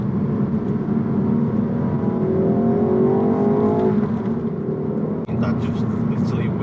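A tuned Ford Focus ST Mk4 with a Revo Stage 1 remap pulls hard through second gear in sports mode, its engine note rising steadily for about four seconds before easing off, heard close from inside the cabin with talk alongside.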